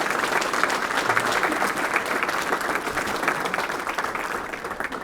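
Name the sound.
applause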